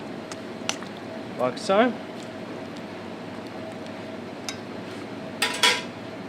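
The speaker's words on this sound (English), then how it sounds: "So give it a nice stir," A spoon stirs vegetables in pickling liquor in a cooking pot, giving a few light metallic clinks and scrapes between quiet pauses, close up, with a brief spoken phrase near the start.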